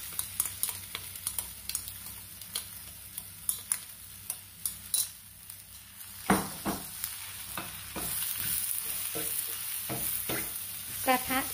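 Rice stir-fried without oil in a Teflon pan, with scattered spatula scrapes and stirring clicks over a faint, steady sizzle, growing busier and denser toward the end with no voices.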